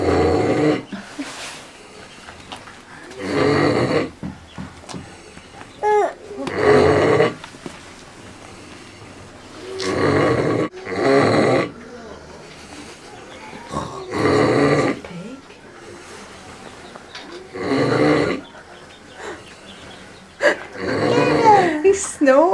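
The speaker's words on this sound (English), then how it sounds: "He's snoring." A pig on a farm snores in deep, rasping bursts every few seconds, loud and close. Children and adults talk quietly between the snores.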